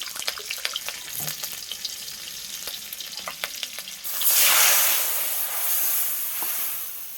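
Oil with nigella seeds and chopped green chili crackles with scattered pops. When a ground tomato and poppy seed paste is added, it erupts into a loud, broad hissing sizzle that slowly eases.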